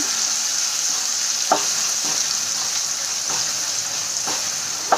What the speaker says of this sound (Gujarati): તો આ રીતે હલાવીને આપણે એને આછા ગુલાબી રંગની થાય ત્યાં સુધી એને સાંતળી લઈશું